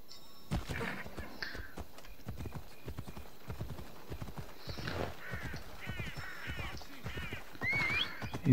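In Assassin's Creed Odyssey, hooves clip-clop in a quick, steady rhythm, with a horse whinnying briefly near the end; fairly close and moderately loud.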